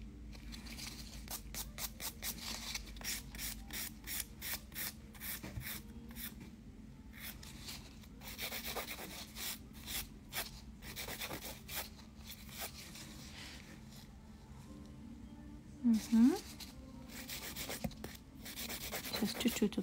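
Gel nail free edge being filed, a steady run of short rasping strokes with a brief pause partway, close and fairly quiet, no talking.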